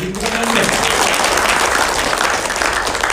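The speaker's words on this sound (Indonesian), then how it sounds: "Tepuk tangannya kurang keras Bapak Ibu." Loud, dense applause from a large crowd at an indoor meet-and-greet event, steady and continuous throughout, with no talking over it.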